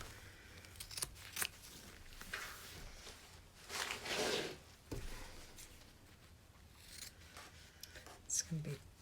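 Scissors cut around the edges of a fabric quilt purse through layered tabs, flap and batting, giving a few quiet, separate snips and rustles at close range with pauses between the cuts.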